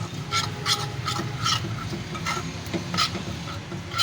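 Spices for a fried chicken marinade being mixed in a bowl, a soft, steady rubbing and scraping with regular strokes roughly every half second, close by and quiet, with no talk.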